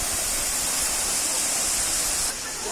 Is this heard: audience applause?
no